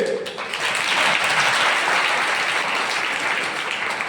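An audience at a Jain community gathering in Usmanpur breaks into loud, sustained applause, a dense wash of many hands clapping together that fills the space steadily from start to finish.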